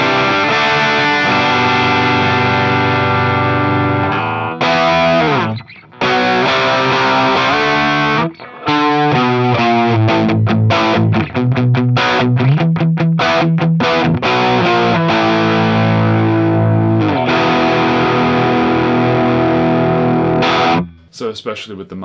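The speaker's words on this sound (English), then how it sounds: "And then if I kick in some drive." Electric guitar on its bridge pickup, driven through a Marshall amp for a classic PAF Les Paul-style crunch, plays loud distorted chords and riffs with brief pauses between phrases.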